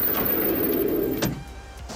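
Power running boards on a Mitsubishi Delica PD6 Space Gear extend with a steady electric motor whir for about a second, then stop and leave quieter background.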